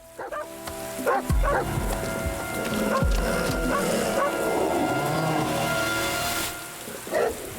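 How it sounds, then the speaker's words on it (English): A mother dog in a video game barks several times, sharp yaps with thuddy footfalls among them, over a busy game soundscape. "That's the mama dog."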